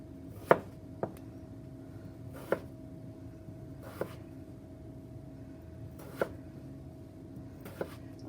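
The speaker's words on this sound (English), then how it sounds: "I'm going to cut 1/4 inch thick slices on each half." A knife slices a halved potato into quarter-inch slices for fresh-cut fries, each cut landing as a sharp, isolated thunk on a cutting board at uneven intervals of about a second or more, close and otherwise quiet.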